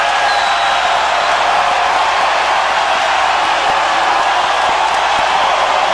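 A college basketball arena crowd roars in a steady, dense wash of cheering and shouting that stays loud and unbroken from start to finish.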